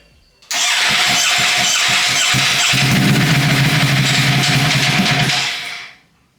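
A rebuilt, previously wrecked Ducati Panigale V4 engine cranks and catches, then idles and revs loudly with a rough, sputtering note before cutting off.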